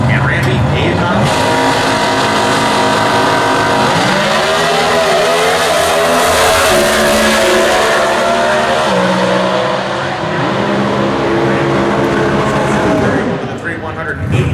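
A Comp Eliminator drag racing car at the US Nationals in Indy, a Chevy Trailblazer-style engine of about 270 cubic inches, roars loudly and continuously, pitch rising and falling through revs, with an announcer talking over it.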